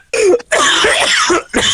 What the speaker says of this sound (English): That is not a happy cough.